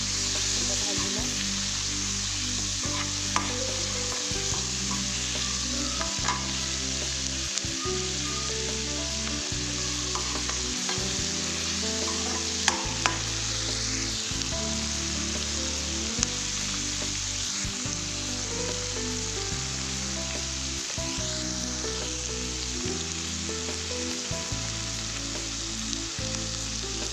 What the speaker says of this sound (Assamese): ভাজি লওঁ।